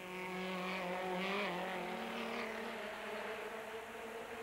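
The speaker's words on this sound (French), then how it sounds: "la bagarre fait rage pour la 2e place entre Pirro Ratzenberger et Eger Quester" BMW Group A race cars battling for second place at Monza in 1987, engines roaring loudly as they pass close by with a continuous high-revving drone and shifting pitch, no talk.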